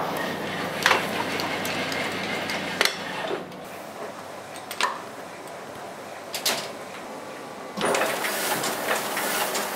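A traditional printing press produces sheet after sheet with recurring clacks and thumps over a continuous mechanical rumble, close and moderately loud.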